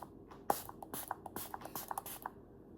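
Several quick hissing bursts of Anastasia Dewy Set setting spray from a pump bottle, close and fairly quiet, with soft handling noises between puffs and no talking.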